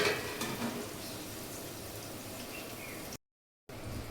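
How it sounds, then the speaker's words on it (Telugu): Rasam boiling in a pot on the stove, a steady soft bubbling and sizzling hiss that runs on evenly, cuts out briefly, then picks up again, with no talk. "ఇదిగోండి రసం చూసారా మరుగుతుంది."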